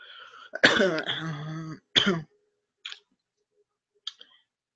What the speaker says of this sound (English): Because I am coughing